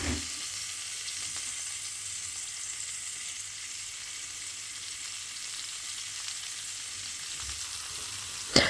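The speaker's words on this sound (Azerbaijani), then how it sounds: "kartoflar yumşalana qədər qapağı bağlı şəkildə bişirirəm." Stuffed potato dolma cooking in a covered pan, a soft, steady, even sizzle held for several seconds at low volume, with a small clunk at the end.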